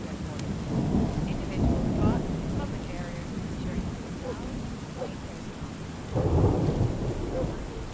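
Thunderstorm with heavy rain in Drug Dealer Simulator, steady rain hiss throughout with two deep rolls of thunder, one early and one near the end, loud and close.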